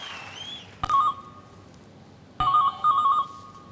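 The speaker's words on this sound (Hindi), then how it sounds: "किसका फोन बज रहा है भाई?" A mobile phone ringtone sounds on a television game-show set (Dus Ka Dum): two loud, close electronic melodic bursts separated by a short pause, with no talking over them.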